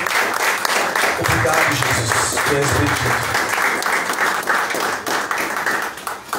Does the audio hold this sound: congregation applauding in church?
yes